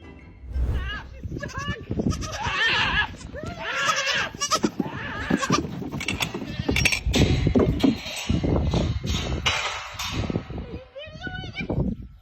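Goat bleating on a farm, high wavering cries repeating throughout amid other animal noise and a person speaking nearby.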